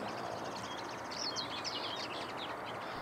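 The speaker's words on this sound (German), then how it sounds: "Ich höre die ganze Zeit, dass hier Bluthänflinge singen und rufen." Common linnets sing and call from hedges in spring, giving faint, distant twittering chirps over a steady wash of background noise.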